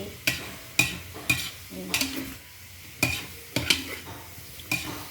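Duck meat dry-roasting in a pan for larb, with sharp, evenly spaced scrapes and taps of a utensil stirring against the pan over a faint sizzle, close and clear.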